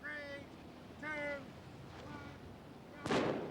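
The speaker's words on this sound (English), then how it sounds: "covers his ears to block out the sound of the starting cannon as they get away" A starting cannon fires once at the 1995 Admirals Cup yacht race. The sharp, booming blast comes near the end, after faint tonal calls over open water and wind.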